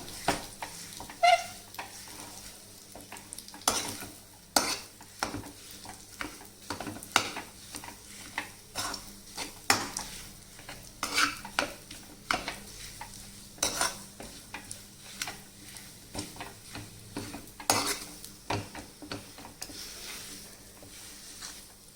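A dry fruit mixture is pressed and mashed in a pan, with repeated scraping and knocking strokes of a utensil against the metal over a soft sizzle, irregular and close.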